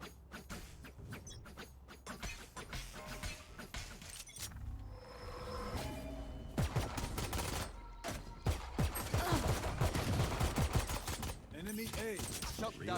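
Bursts of automatic gunfire in a first-person shooter video game, loud rattling volleys mixed with other game effects and a faint voice underneath.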